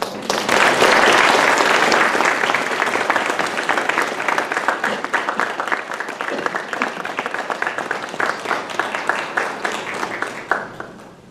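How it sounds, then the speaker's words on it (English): Loud applause from a ceremony audience for an athletic Hall of Fame inductee, a thick wash of clapping that starts at full strength and gradually thins out before stopping. "Give her another round of applause."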